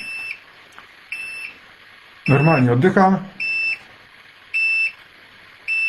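A CO2 meter sounds its alarm, sharp high-pitched beeps in short bursts at a regular pace, close and loud, with a brief spoken remark between beeps.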